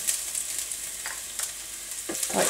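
Chopped green chillies fry with ginger and garlic in a pan for paneer bhurji, giving a steady, close hiss and sizzle. A few soft scrapes of stirring break through it.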